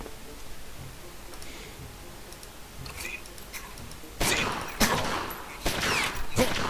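Gunfire in the Omerta game arrives as a few faint ticks at first. Louder bursts of shots then break out, with one sharp crack standing out. Each burst is brief and close, and no one speaks over them.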